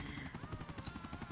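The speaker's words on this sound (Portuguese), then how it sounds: "Ah, helicóptero, chega aí, então." A police helicopter in GTA IV whirs with a steady rotor chop in the game background, faint and continuous, with no talk over it.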